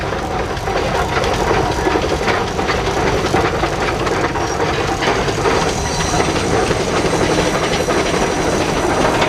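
A 1915 Case single-cylinder steam traction engine rated at 65 horsepower runs at a show, giving a loud, continuous mechanical rumble and chuffing clatter that fills the whole stretch, with no talking.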